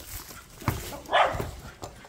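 A dog barks near an overgrown abandoned house, two or three short sharp barks with a whimpery edge spread over a couple of seconds, fairly close, with no talk.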